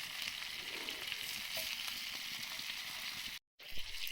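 Chicken pieces frying in hot oil at home, a steady loud sizzle with scattered pops and crackles, briefly cut off near the end before resuming.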